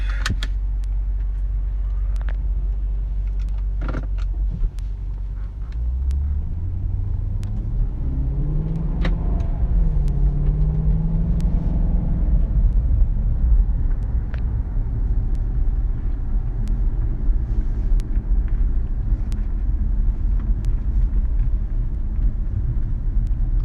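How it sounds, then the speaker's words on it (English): A Maserati Quattroporte S luxury sedan drives in sport mode, heard from inside the cabin. A deep, low engine drone rises through a rev climb and settles into a steady road rumble, with faint clicks and rattles and no talking. "So I have the sport mode on, and we can go for a little drive."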